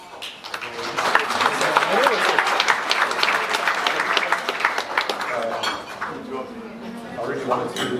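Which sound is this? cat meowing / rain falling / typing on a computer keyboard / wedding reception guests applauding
wedding reception guests applauding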